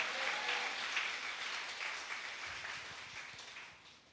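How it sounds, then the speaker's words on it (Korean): A church congregation at a Korean worship service gives a round of applause, a soft, distant wash of clapping that slowly tapers off over a few seconds. "주님께 영광의 박수 올리겠습니다."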